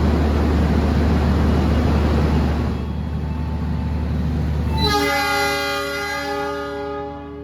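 The Taksaka passenger train, hauled by a CC 206 locomotive, departs Cirebon station with a steady low rumble, then a long sustained multi-tone horn sounds from about five seconds and holds to the end, loud and fairly near.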